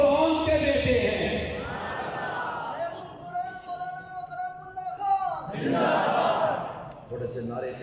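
A crowd at a religious conference in Rawalpindi chants slogans together, with a sustained massed vocal shout in the middle amid rumbling hall noise and a lone voice before and after.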